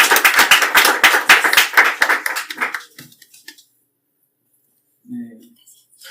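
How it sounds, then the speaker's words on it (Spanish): Small café audience clapping after a book reading in Mexico City, a few seconds of close, lively handclaps that quickly die away into quiet, followed by a short murmur of voice. "Un aplauso para Nancy."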